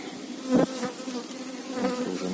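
Dense buzzing of many honeybees at a hive, steady and close, with a few louder passes as individual bees fly near.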